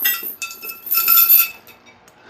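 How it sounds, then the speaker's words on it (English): Metal weight plates clang and clink in a gym, a scatter of bright, sharp metallic hits at moderate distance with no talking over them. "Don't mind the iron clanging noises in the background."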